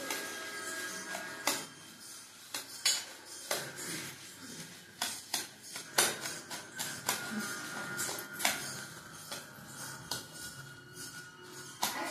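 Bhel puri, a puffed rice snack with salt and chivda, being mixed in a bowl, a series of dry rustling scrapes and taps in an irregular rhythm, close and moderately loud.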